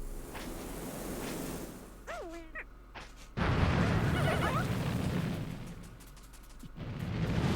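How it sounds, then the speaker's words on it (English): A deep, loud boom from a bomb rock detonating in the video game Pikmin 3 Deluxe bursts in after a few short game chirps and sustains a rumbling roar before fading, followed by another swell. "Explosion!"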